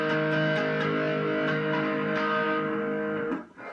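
Electric guitar playing a tapping section with distortion, a sustained, harmonically rich stream of fast notes that carries steadily before dropping off near the end, with no talking.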